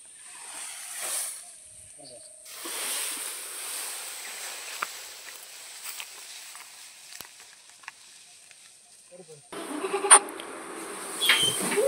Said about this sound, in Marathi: शेळ्या वाटच पाहत राहिल्या त्या वैरणीची.